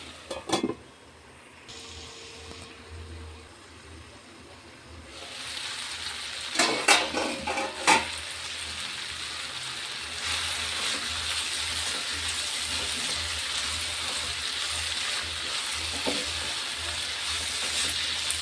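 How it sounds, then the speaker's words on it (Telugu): Chopped tomatoes for a broad bean and tomato curry soften in a pan under a covering plate, giving off a steady, even sizzle that fills the second half, with a few light clinks of utensils near the middle. "ఇలా బాగా మిక్స్ చేసి దీని మీద ఒక ప్లేట్ పెట్టుకొని ఈ టమాటాలని మగ్గనివ్వాలి"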